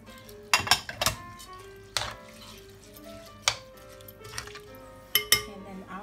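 A spoon scrapes and clinks against a pot while chicken and aburage are stirred for takikomi gohan, several sharp knocks spread unevenly over a quiet kitchen background.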